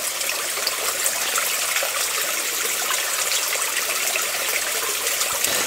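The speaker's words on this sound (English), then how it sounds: "kind of a waterfall here" Water from a spring pouring down a small waterfall at a cottage on a rainy day, a steady, bright, continuous rushing splash heard close and loud, with no talk over it.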